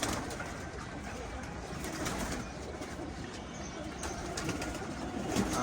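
Pigeons in a loft coo softly and repeatedly through a dense, steady background hum. Faint scattered rustles come from the birds, and no one speaks.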